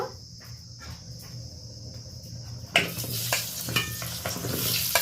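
Salted, turmeric-coated pointed gourd hitting hot oil in a pan, a quiet simmering hiss that bursts into loud crackling sizzle, with stirring clinks over a faint background chirp.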